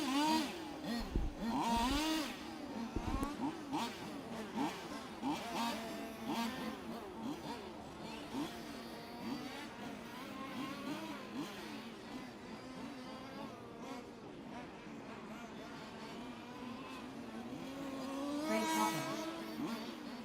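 Several 1/5 large scale petrol RC race cars buzz around a track at the start of a championship qualifying race, high whining engines overlapping and rising and falling as they pass, some near and some distant.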